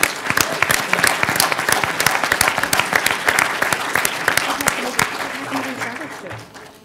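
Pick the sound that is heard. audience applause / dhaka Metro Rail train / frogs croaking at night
audience applause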